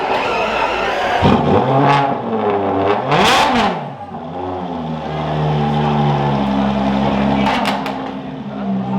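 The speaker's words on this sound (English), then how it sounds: "I promised more revs, and I'm not going to disappoint" Loud, close car engine revving hard in repeated bursts, rising and falling pitch with a sharp climb and drop midway, then holding a steady high drone.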